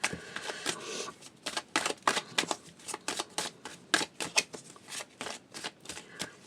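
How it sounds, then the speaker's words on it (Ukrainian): Rapid, crisp riffling of a deck of tarot cards being shuffled repeatedly, a quick rhythmic flutter of bursts with short pauses, close and fairly quiet. "Гарно треба перетасувати карти."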